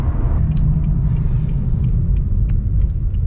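A car cruises along and swings through a smooth U-turn, its engine a low steady rumble with road noise heard from inside the cabin, with no talk over it.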